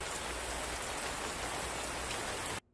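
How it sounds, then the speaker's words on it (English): Steady, even rain pouring in a horror film set at a remote cabin, a dense hiss of drops that fills the clip and then cuts off abruptly to near silence. "Don't you just love the rain?"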